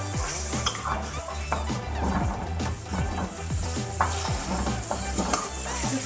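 Tomatoes cooking over high heat in a pan with turai (ridge gourd) for a sabzi, steady sizzling and frying under repeated metallic stirring and scraping clinks of a utensil against the pan.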